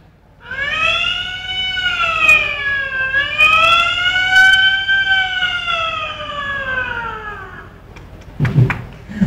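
A voice mimics a police jeep siren, a loud sustained wail that rises and falls smoothly for several seconds before breaking off.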